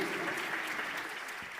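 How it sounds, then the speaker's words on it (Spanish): An audience gives a round of applause for the Cristo Rey polyphonic choir, a brief, steady patter of many hands at moderate loudness. "Un fuerte aplauso para el coro polifónico Cristo Rey"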